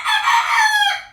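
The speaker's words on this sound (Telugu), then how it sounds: "చిన్న కోడి పిల్ల." A small chicken chick lets out one drawn-out, high-pitched call lasting about a second, loud and close, with no one talking.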